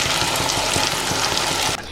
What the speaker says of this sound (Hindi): मुझे अच्छे से मशरूम और मटर को फ्राई करना है।